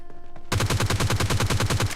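Automatic gunfire in the battle royale game PUBG Lite erupts after a brief lull into a loud, rapid burst of evenly spaced shots, about a dozen in quick succession, close and sharp, with no talk.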